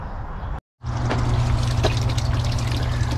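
Water trickles steadily into the basin of a newly plumbed garden water feature, a close, continuous splashing flow that cuts out for an instant and then resumes.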